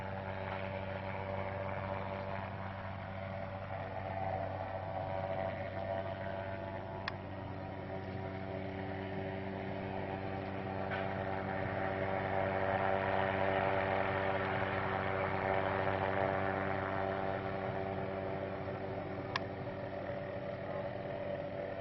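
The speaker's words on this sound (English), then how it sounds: "Can't hear you over the chopper." A helicopter at an injury scene drones steadily nearby, a low constant rotor and engine hum with stable tonal layers and a couple of faint sharp ticks, no voices heard.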